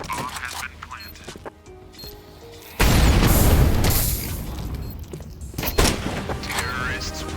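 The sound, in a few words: planted bomb exploding in a video game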